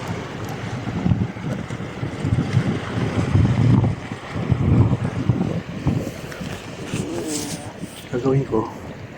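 Wind gusts buffet the microphone at a breezy spot in Papaya, Batangas, with a steady rumbling roar and waves behind it, while people talk intermittently over the top.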